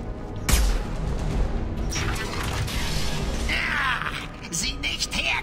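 In the video game Mass Effect 2, a door opens with a sharp mechanical clunk, then a grinding, hissing slide and creaking mechanisms, loud and close, with no talk.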